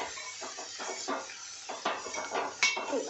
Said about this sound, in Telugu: ఒక గరిటె తీసుకొని కలపండి.